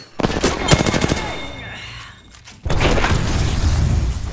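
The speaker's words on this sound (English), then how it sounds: "They're firing on me" Gunfire in an Apex Legends match: a rapid burst of automatic shots at the start, then a lull, then a dense, loud stretch of continuous firing and impacts, with faint voice-like sounds mixed in.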